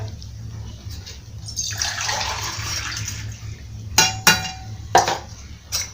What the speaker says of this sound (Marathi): आपण याच्यात पाणी टाकून घेऊया